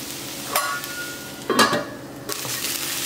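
Sweet burfi mixture sautés in a pan over a low flame, a soft continuous sizzle with a few louder stirring scrapes spaced about a second apart.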